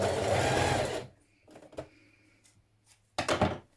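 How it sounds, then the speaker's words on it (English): A sewing machine stitching sweatshirt cuffs whirs in one steady burst for about a second, followed by a few soft handling clicks and then a second short run of stitching, all close and clear. "And now we're going to stitch that in place."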